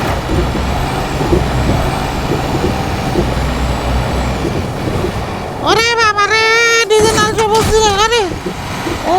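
Truck in a Bangladeshi driving game on a Comilla to Noakhali map, a steady engine drone giving way to a loud, wavering horn-like tone over the last few seconds, with faint talk under it.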